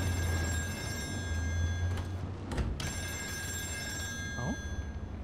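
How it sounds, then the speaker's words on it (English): A telephone ringing inside the horror video game Still Wakes The Deep, an electric bell trilling steadily and fairly loud throughout, with a brief thump partway through. "it's a phone this time."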